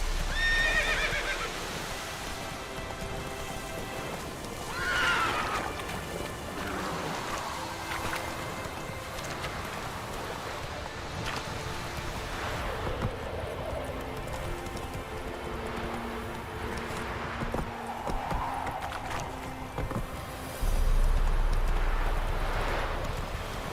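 Roach the horse in The Witcher 3 gallops with repeated clip-clop hoofbeats and gives loud whinnies and neighs over a game soundscape with wind and music, with no voices heard.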